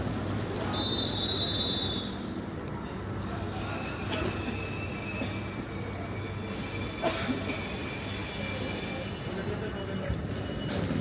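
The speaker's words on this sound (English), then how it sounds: "It's as if our train is arriving now." An overnight train pulls into a station in Romania, its wheels rumbling with high metallic squeals rising over the steady noise of the rails.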